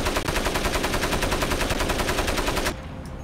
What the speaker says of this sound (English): that tree seemed to be like machine gun, like Matrix dodging all my machine gun bullets